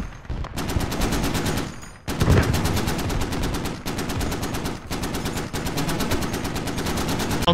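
Automatic rifle fire in the military shooter Squad empties a magazine in long rapid bursts. A few brief breaks separate the bursts, and the rattling shots are loud and close, with no talking.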